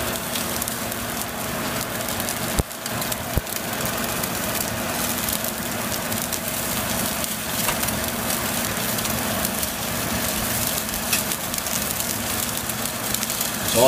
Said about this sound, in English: we're searing the daylights out of the top and bottom of the steak